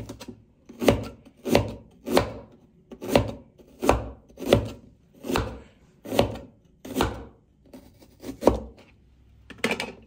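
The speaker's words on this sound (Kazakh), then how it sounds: "Үшінші кезекте іргестерімізді да турап алыңыз осылай." A knife chops vegetables on a wooden board in a steady rhythm of about a dozen close, crisp strokes, each followed by a short pause.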